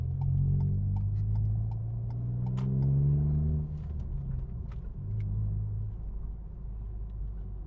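A 2020 Ford Focus Vignale drives on the road during a test, its engine humming and rising through gears with a low steady rumble and faint ticking, no voices over it.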